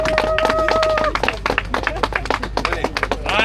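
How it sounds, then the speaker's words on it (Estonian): Audience applause for the hobby-class riders at an Estonian hard enduro race, a dense burst of many hands clapping outdoors with a brief tonal whine under it at the start. "Aplaus hobiklassi meestele."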